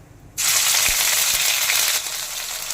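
Ginger paste hits hot oil with whole cumin, bay leaf and dried chilli in a pan, bursting into a loud, steady sizzle that stays close and continuous, with a couple of soft taps from the utensil.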